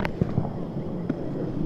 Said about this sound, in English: Oh, people are doing fireworks.